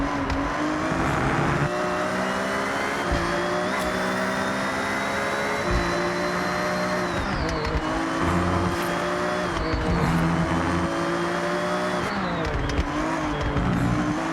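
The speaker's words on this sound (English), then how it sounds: "I love the curb noises, the downshifts, the upshifts" A race car engine in the Forza Horizon 6 video game, revving hard with rising pitch sweeps broken by quick upshifts and downshifts, loud and continuous, with brief curb rumbles and tyre noise.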